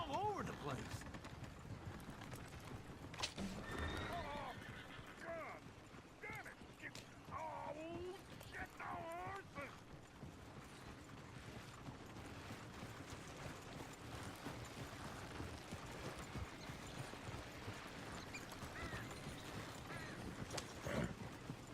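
Horse hooves clip-clop on a dirt street in the Red Dead Redemption western video game, with a brief whinny early on, under game music, ambience and character chatter.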